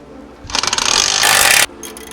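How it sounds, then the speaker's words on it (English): A ratchet tightens nuts onto the knuckle bolts of a coilover on a 2020 Supra, giving a fast, close run of clicks that speeds into a dense burst and then stops abruptly. "And go ahead and put the nuts on and tighten it down."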